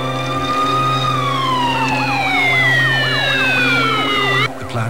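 A loud ambulance siren wails nearby, a long falling tone shifting into a rapid warbling yelp, then cutting off abruptly.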